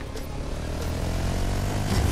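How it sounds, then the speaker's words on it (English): A propeller airplane in Fortnite, a steady droning engine hum that builds slightly in loudness, heard on its own without talk. "Airplane!"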